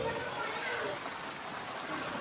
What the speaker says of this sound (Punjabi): ਬਹੁਤ ਜ਼ਿਆਦਾ ਮੀਂਹ ਪੈ ਰਿਹਾ